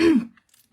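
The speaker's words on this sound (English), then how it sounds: "As soon as you get on a live or get on the phone, you feel like you need to have a coughing fit." A single throat clear, close and fairly loud, a short harsh burst that fades within a fraction of a second into near silence.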